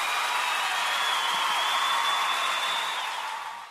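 An audience at an Umoja Day gathering breaks into steady, dense applause that holds loud and even, then starts to fade near the end.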